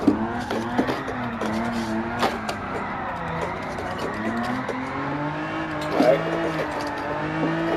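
Race car drifting through a turn in Gran Turismo 7, with a steady engine drone shifting pitch up and down and brief tire squeals layered over it, plus a couple of sharper bumps along the way.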